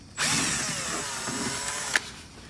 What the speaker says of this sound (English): I'm going to come in with a 10mm socket, and I'm going to disconnect this part.